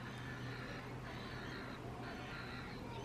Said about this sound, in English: you can hear all the seagulls